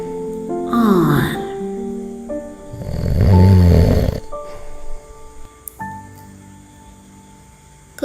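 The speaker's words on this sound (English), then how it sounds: "Bear can't sleep, but his friends snore" Animals snore in a story: drawn-out rumbling snores and long groaning breaths rise and fall, with soft musical tones underneath and no speech.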